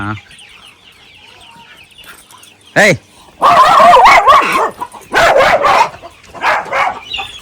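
Broody hens on a farm clucking and squawking in short loud bursts close by, with a brief rising call near the start and quieter farmyard noise between.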